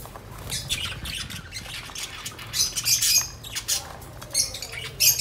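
Pet budgies and African parrots squawk and chirp in short, scattered bursts, moderately loud and close, with a low background rumble and no talking.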